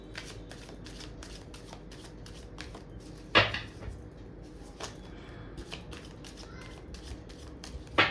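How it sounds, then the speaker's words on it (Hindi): Tarot cards shuffled by hand in a steady run of short riffling bursts, fairly close and moderately quiet, with a few louder slaps of the deck against a surface. "जब तक मैं कार्ड शफल कर रही हूँ"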